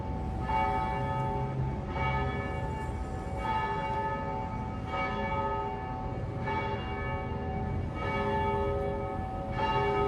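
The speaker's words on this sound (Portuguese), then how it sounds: "Minha irmã fala que esse cara é o DJ do sino." A church bell rings repeatedly, loud, resonant strokes sounding roughly every one and a half seconds, each ringing tone overlapping the next, with no talking.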